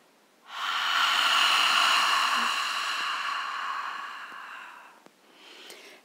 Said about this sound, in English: Exhale all.